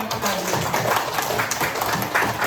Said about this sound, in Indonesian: Tepuk tangan itu semuanya.